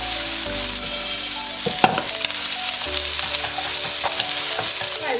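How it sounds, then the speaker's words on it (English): Food sizzles and crackles steadily in a hot pan while being stirred, close and continuous with occasional scraping clicks, as onions fry for a butternut squash, chickpea and spinach coconut curry. "we're just going to fry that off until it goes translucent"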